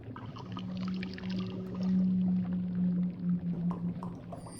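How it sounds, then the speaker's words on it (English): A finished potion is poured into a glass vial in the adventure game The Longest Journey, giving a soft, watery gurgle with low bubbling tones that rise and fall for several seconds, faint and without voices. "I'll just pour the finished potion into one of these vials."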